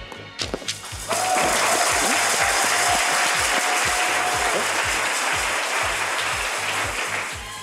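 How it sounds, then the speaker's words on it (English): Applause from a virtual cheering section at an online awards ceremony for Arkansas workplaces, a steady dense wash of clapping that swells in and holds for several seconds, with a few sharp thumps at the start and a faint tone running underneath. "congratulations from everyone here today via our virtual cheering sections"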